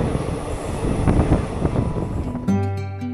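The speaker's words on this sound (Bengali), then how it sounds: "আমাদের ট্রেন এখন এগিয়ে চলেছে এই সুন্দর গ্রাম্য পরিবেশের মধ্যে দিয়ে।" Kanchanjungha Express rolling through rural Birbhum on the Kolkata–Tarapith run, a steady rumble of wheels and carriage noise that shifts into a harsher, tonal grinding near the end, close and continuous.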